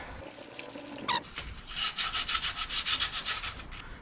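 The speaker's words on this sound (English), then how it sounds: "Hit it with some sandpaper." Sandpaper rubs over a carburetor part on a Datsun truck, a close, fairly quiet scratch that settles into quick rhythmic back-and-forth strokes after a brief scrape.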